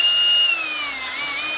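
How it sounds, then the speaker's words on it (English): A power drill boring holes through a sign meant for a chain link fence, a steady high whine that dips slightly in pitch as the bit loads up, loud and close with no talk. "The first thing I'm going to do is drill the holes in my sign where I'm going to put the tie wraps."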